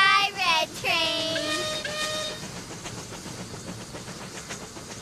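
A toy train pulls away with a rising, warbling whistle that repeats several times, then fades into a soft, steady rolling hiss as it moves off into the distance.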